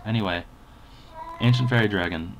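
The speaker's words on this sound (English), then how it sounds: "That's my cat. He always meows in my videos." A pet cat meows twice, loud and close, a longer cry then a drawn-out second one, with someone talking between them.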